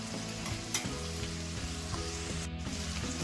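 Soaked tamarind pulp goes into a hot pan of brinjal chutney with tomato, giving a steady close sizzle and frying hiss with light stirring scrapes throughout and no voices.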